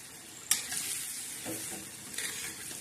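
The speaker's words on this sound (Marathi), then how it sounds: "आता हे अंडे सोडल्यामुळे आपण छान अशी या चटणीमध्ये हलवून घेणार आहोत।" Egg being stirred into frying green chilli and garlic thecha chutney, with a soft steady sizzle broken by a few scraping spoon strokes, close and fairly quiet.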